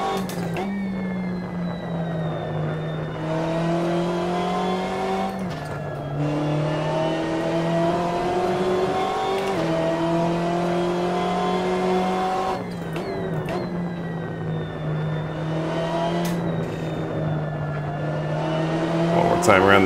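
A BMW M8 GTE race car engine in Assetto Corsa drones loud and steady through long high-revving pulls, dropping pitch sharply at a few gear changes and building again; a voice talks over it at times.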